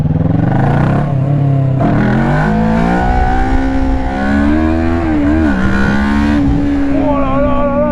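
A Kawasaki ER-6n motorcycle ridden hard on a closed road, its twin-cylinder engine loud and close as it revs up through the gears with brief drops at each shift, and a voice speaking over it.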